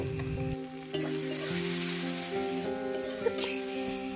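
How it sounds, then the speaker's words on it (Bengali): Turmeric, chili powder and salt sautéing in a pan over a clay stove for a chicken and potato curry, a steady close sizzle with a few clinks of stirring and a low hum underneath. "তো দেখো পরপর আমি মশলাগুলো দিয়েছি হলুদ গুঁড়ো, লঙ্কার গুঁড়ো, লবণ, এবার সমস্তটাই আমি ভালো করে কষিয়ে নেব"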